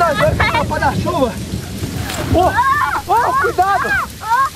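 Rain hisses steadily with a rumble of thunder during a downpour, heard under excited children's and an adult's voices shouting close by.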